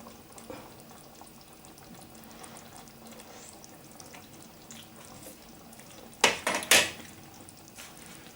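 A pan of corn and red beans cooks on a stove with a soft steady simmer, and a brief clatter of dishes and cutlery rises near the end.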